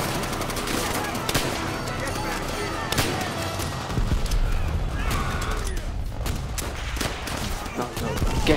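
Dense, continuous gunfire and machine-gun bursts from the video game Call of Duty: World at War fill the scene, loud and unbroken, with sharper shots around the fourth second and a voice occasionally speaking underneath.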